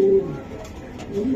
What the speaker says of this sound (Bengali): হ্যাঁ, ইয়াং কবুতর